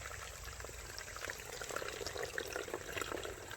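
Water squeezed from a Squeeze filter pouch streams steadily into a Smart Water bottle outdoors, a continuous close hissing trickle with no pauses.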